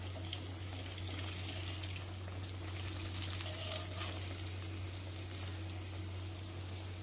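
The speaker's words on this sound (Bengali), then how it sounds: "দেখুন বন্ধুরা, একটা ছেড়ে দিয়েছি, ভাজা হচ্ছে" A stuffed spiny gourd (kakrol) frying in hot oil, giving a steady, even hiss and crackle that stays close and moderately loud, with a low hum underneath and no talking.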